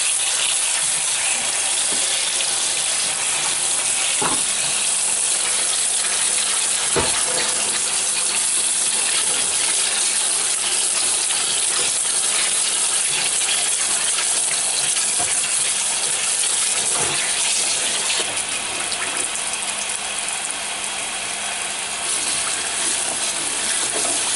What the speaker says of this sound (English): I got the eggs in the sink. And I got the cold water on them.